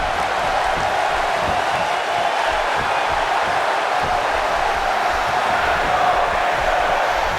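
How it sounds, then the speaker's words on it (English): Crowd noise in the WWE 2K16 wrestling video game: a steady, dense arena roar of cheering that holds a constant loud level throughout without clear breaks. "by the sound of this crowd, I think they're getting what they wanted"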